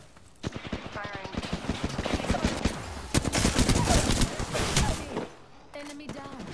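Rapid bursts of gunfire from the video game Apex Legends, loud and dense through most of the stretch, with repeated sharp shots and automatic fire before easing near the end.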